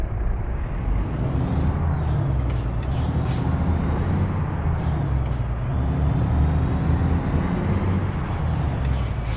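A heavy truck in American Truck Simulator rumbles low and steady with its Jake brake engaged, repeated bursts and rising-falling whines riding over the loud, close engine drone.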